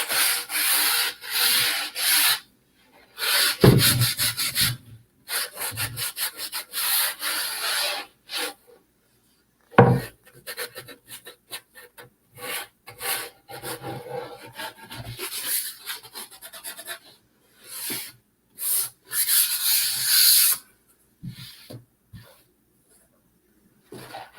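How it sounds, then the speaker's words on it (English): Edges of a wooden craft piece being sanded by hand, dry, raspy rubbing strokes in short bursts separated by pauses, close and fairly quiet. "So I'm going to sand the edges of this."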